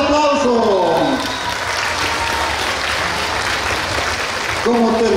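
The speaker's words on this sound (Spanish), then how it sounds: "¡Fuerte el aplauso!" A crowd claps steadily at an award ceremony for a goat broth cooking contest, with loud sustained applause filling the space and voices heard over it at the start and the end.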